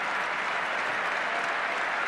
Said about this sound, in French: Et le public toulonnais l'applaudit.